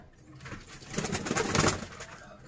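A golden pigeon coos softly in a loft, a brief, faint series of low cooing calls swelling through the middle of the moment, with no talking over it.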